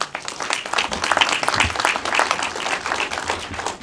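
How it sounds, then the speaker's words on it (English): Audience at an Outfest trans summit panel in Los Angeles breaks into applause, a few seconds of dense, lively clapping with sharp individual claps standing out. "Yes, yes, applause for that."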